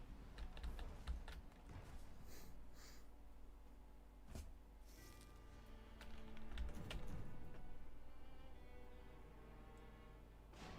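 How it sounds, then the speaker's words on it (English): Regular computer keyboard typed on during a strategy game session, quiet continuous clicking with a few louder key strikes, faint and close, no speech. "Man, it's just my regular-ass keyboard."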